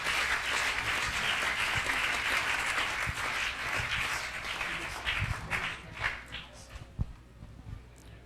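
A church congregation applauds, a dense, warm burst of clapping from many hands that gradually thins into scattered claps and footsteps, with voices speaking over it.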